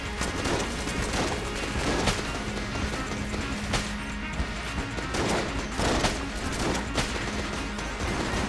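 Bursts of gunfire in the game Enter the Gungeon crack repeatedly over a dense, noisy background, with irregular heavy shots and a few sharper impacts scattered throughout.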